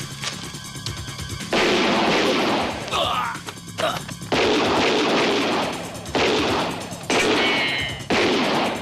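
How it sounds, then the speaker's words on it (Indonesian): Loud bursts of gunfire crack out in repeated volleys, broken by short gaps and a sharp crash of breaking glass, in a gambling-film action scene. "Kedengarannya seperti suara senjata api."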